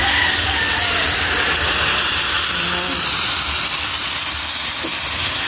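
Steady broad hiss and sizzle of broth poured into a hot pan of chicken pastil, continuous and fairly loud throughout with no talk.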